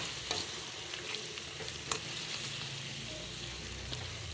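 Chicken curry with coconut milk sizzles gently in a pan, with soft stirring scrapes and occasional utensil taps over a steady low frying hiss, close by and with no talk.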